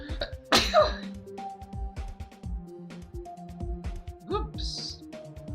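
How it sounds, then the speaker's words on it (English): A single short sneeze bursts out near the start, close and loud, followed by bits of throat noise, over game music and chatter during a live Geometry Dash stream. "Sneeze a little bit."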